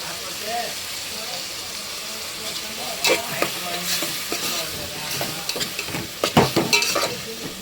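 Coriander, mint and a ginger and coriander seed paste sizzle in a pan while a utensil stirs them. Scraping and clinking bursts sit over a steady frying hiss, and they are close and moderately loud.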